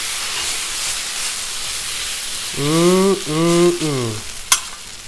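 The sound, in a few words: oil sizzling on a Blackstone griddle for stir fry noodles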